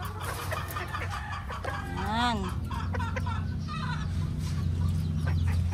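Several breeding hens of fighting-cock breeds cluck and squawk nearby with rising, bending calls, over a steady farmyard hum, while someone says a word briefly.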